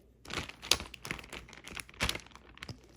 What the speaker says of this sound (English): cracking of the teriyaki bottle